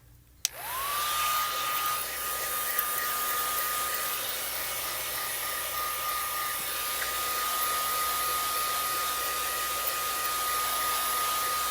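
A craft heat tool switching on to melt embossing powder, its motor spinning up into a steady whining blow of hot air that runs loud and close without pause, with no voices.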